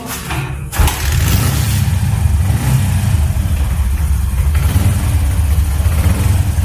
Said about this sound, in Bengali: বাইকটা আপনাদের স্টার্ট করে দেখাবো সাউন্ডটা কত স্মুথ